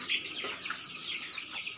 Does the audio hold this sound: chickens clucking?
yes